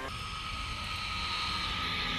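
Small electric model aircraft with four motors and an 8-inch wingspan flying at Old Warden, a steady close whine with a strong sustained tone running unbroken throughout, loud against a faint outdoor background.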